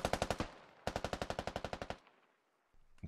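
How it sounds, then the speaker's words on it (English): An AR rifle in the tactical shooter Squad fires two rapid automatic bursts, a short one and then a longer one of about fifteen shots, loud and close, followed by a fading echo and another shot starting. "Sergeant Jackson on that AR, just sending out some suppressing fire."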